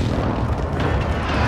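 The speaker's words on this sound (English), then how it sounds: "Friendly precision airstrike inbound." A precision airstrike explodes in a first-person shooter game as a dense, continuous roaring blast with deep rumble. It is loud and close and fills the whole short stretch with no gaps.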